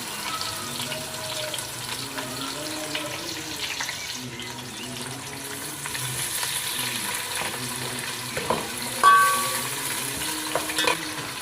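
Onions frying in oil with bay leaf and cinnamon for chicken dum biryani, a steady bubbling sizzle with scraping stirs and one brief louder clatter, no talking.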